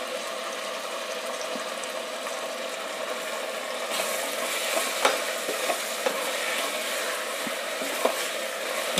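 Tomatoes and mint leaves sautéing in a pan for a beetroot and peas biryani give a steady close sizzle with occasional stirring scrapes and taps, growing a little brighter and busier partway through.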